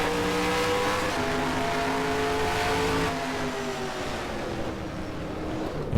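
A NASCAR race car engine in the NASCAR Racing 2003 video game roars at full throttle, loud and steady with rising harmonic whine, then drops slightly in level midway as the revs continue.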